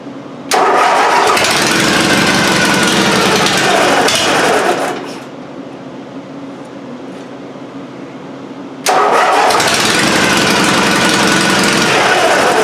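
An old stock pulling tractor engine fires up after ten years in storage, roaring loud and steady, dropping to a lower idle for several seconds, then revving back up to a loud roar.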